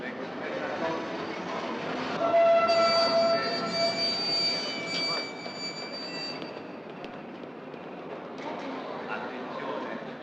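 A train arrives at a station platform with a rumbling roll and squealing wheels as it pulls in, fairly loud, while a platform announcement is heard over it.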